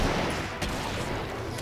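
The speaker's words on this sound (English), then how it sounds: "Oh, getting explosions over here." Dense, continuous gunfire rattles in the Killing Floor video game, a steady busy barrage of shots heard moderately loud with no clear voices over it.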